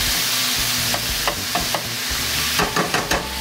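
Shaved ribeye sizzles steadily in a hot pan while metal tongs clack and scrape through it in a few sharp, close strokes; no one speaks.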